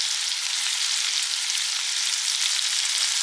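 Prawns with chili flakes and salt fry in a pan, a loud, steady, bright sizzle running without a break and no voices.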